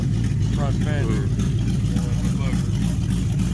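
A 1969 Chrysler 300 engine running at a rough, loud idle, with a steady deep rumble throughout and people talking over it.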